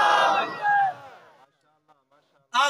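Crowd at a religious gathering shouts back a loud collective cry after a speaker's Nara-e-Takbir call, a brief burst at the end following the speaker's voice.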